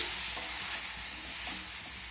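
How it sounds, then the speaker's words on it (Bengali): Garden-grown ripe tomatoes with salt being stirred in a pan for tomato sauce, a soft continuous hiss with a few light scraping touches, close and brief. "লবণটা দিয়ে একটু টমেটোর সঙ্গে মিশিয়ে নেব।"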